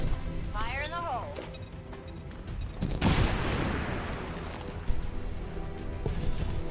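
A grenade blast and gunfire from the turn-based strategy game XCOM 2: a broad, loud explosion burst about midway, with gunfire crackle around it and continuing battle noise, under game voices and talk.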